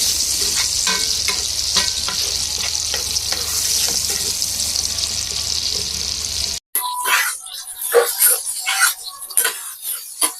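Thinly sliced onions fry in hot oil for an Andhra-style fish curry, a steady close sizzle with stirring scrapes, then it cuts abruptly to a quieter stretch of clattering and stirring sounds.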